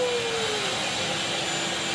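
A vacuum cleaner runs close by a dog, a steady loud whining drone with a high-pitched tone that holds throughout without a break.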